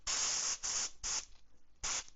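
An airbrush sprays metallic purple paint onto a 3D-printed fishing lure in four short hissing bursts, each about half a second, close and crisp with brief pauses between.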